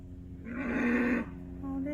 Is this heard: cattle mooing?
yes